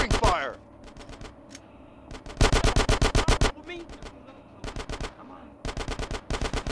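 Rapid automatic gunfire from the video game GTA San Andreas on PS2 rattles out in several tight, loud bursts separated by short gaps, with faint in-game sounds between volleys.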